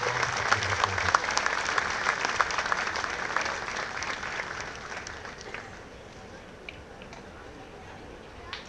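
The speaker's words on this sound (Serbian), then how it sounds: "Ajmo da dočekamo je aplauzom" Applause from a school concert audience welcoming a flute student from a music school in Šabac, with piano accompaniment to follow. The clapping is dense and steady at first, then thins and fades over the clip.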